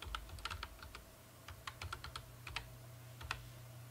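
A password being typed on a computer keyboard while configuring a Nortel digital phone set: quiet, close, irregular key clicks in quick bursts, with no voices.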